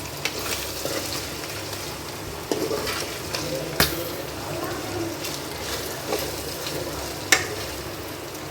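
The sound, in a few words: mutton keema frying and being stirred in pan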